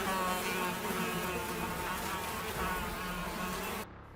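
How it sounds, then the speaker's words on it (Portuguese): A dense swarm of locusts buzzes steadily and loudly, a continuous insect drone that cuts off abruptly near the end. "Hashem trouxe gafanhotos com um vento forte do leste."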